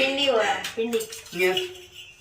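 A few brief metallic clinks of pots and bowls being handled in a home kitchen while someone talks over them.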